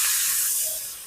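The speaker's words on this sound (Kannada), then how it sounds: "ಮಟನ್ ಹಾಕೊಳ್ತಾ ಇದ್ದೀನಿ" Mutton pieces dropped into a hot pot for biryani give a loud, close burst of sizzling hiss that slowly fades.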